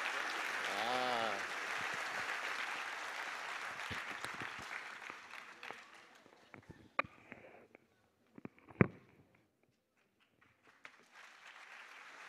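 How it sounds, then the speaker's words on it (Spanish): Audience applause at a school cultural night, a dense wash of clapping for about five seconds that thins and fades into scattered claps, a sniff and brief murmurs. "por eso un aplauso fuerte"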